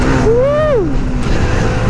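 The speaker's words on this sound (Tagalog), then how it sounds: "Daming tricycle." Motorized tricycles pass on a road during a motorcycle top-speed run. A loud engine whine rises and falls over a steady rush of road and wind noise.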